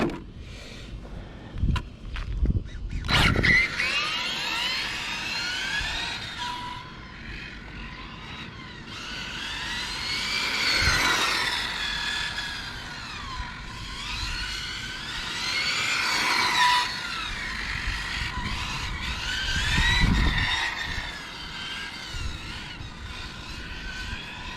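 A Hobao Hyper GTB long-wheelbase RC car's engine whines at high pitch, rising and falling as it passes near and away repeatedly over a steady background hum.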